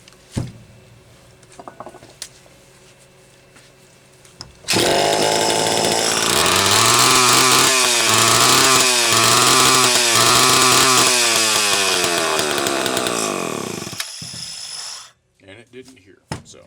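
A Homelite XL-12 chainsaw starts after quiet clatter and runs loud for about ten seconds, its engine note rising and falling in repeated revs before cutting off, with faint voices in the quieter stretches.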